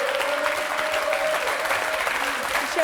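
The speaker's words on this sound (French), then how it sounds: "Merci, on peut l'applaudir." Steady applause fills the room, a dense wash of clapping from an audience that holds evenly throughout, with a voice faintly audible over it.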